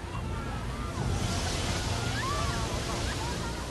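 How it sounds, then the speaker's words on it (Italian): Tsunami water surging through the streets of Banda Aceh carrying debris, a loud continuous rushing roar with sloshing and wind-like noise, dense and unbroken. "L'acqua invade le strade raccogliendo detriti mentre avanza."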